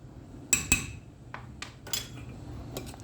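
A spoon clinks against a pot as butter is stirred into thick custard cream, with a few sharp, close metallic taps spaced over a quiet background and no speech.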